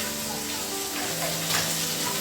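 Fish frying in a little oil in a wok gives a dense, loud, close sizzle that runs unbroken throughout, with a faint voice-like hum beneath it.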